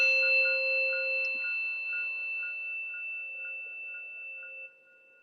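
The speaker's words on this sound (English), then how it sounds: "just listen to the sound of this gong all the way to the end." A single struck meditation gong rings out alone, its steady sustained tones with a gentle pulsing shimmer decaying slowly over several seconds before fading abruptly near the end.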